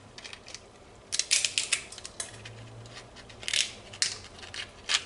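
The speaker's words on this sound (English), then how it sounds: "put my shears in here under the shell, and begin to cut away" Kitchen shears snip through a lobster shell as the lobster is split for searing with butter and garlic: crisp, close crunching cuts in uneven bursts, with no talking.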